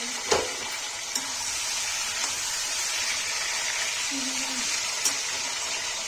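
Eggplant fries in hot oil with salt, giving a steady close sizzle that runs the whole time, broken by a few faint clicks of a utensil and a murmur of voice in the background.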